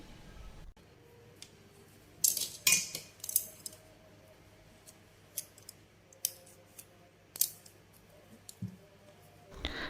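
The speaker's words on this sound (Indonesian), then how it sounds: "Ini kita haluskan menggunakan garpu saja hingga dia teksturnya menjadi lembut dan halus seperti ini." Steamed sweet potato mashed with a fork until smooth, heard as sparse, sharp metallic clicks and scrapes of the fork against a dish in irregular bursts, close and fairly quiet between strokes.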